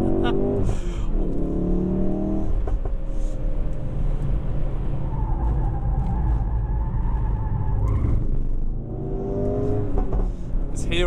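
A 2016 Ford Focus RS driven hard on a race track near Valencia, its engine note climbing repeatedly through the revs during acceleration, with a steady road and wind rumble underneath.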